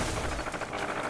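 Dense, continuous gunfire in the video game Renegade X, with rapid overlapping shots forming a steady, fairly loud barrage throughout.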